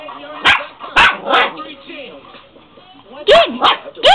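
Several sharp puppy yips and barks, in bursts early and late, with a person's excited voice talking in between.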